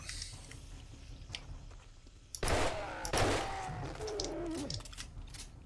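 Gunshots in 7 Days to Die, two sharp loud reports a moment apart after a quiet stretch, followed by crunching, squishy impact noise as a target goes down.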